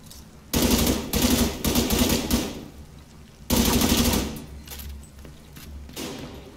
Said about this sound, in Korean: 총소리는 되게 마음에 드는데?